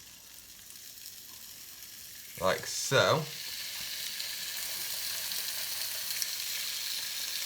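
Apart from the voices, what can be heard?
seasoned pork steaks frying in oil in a frying pan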